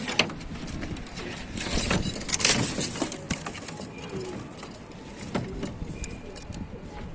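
A flock of fifty male pigeons offered for sale in Tanta coos and shuffles in a loft or coop, with busy rustling and scattered close bird calls over a steady background.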